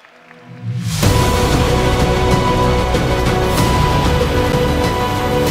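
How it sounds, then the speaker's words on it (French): A large crowd bursts into loud, sustained applause after a brief quiet start, clapping dense and continuous throughout. "on l'applaudit bien fort"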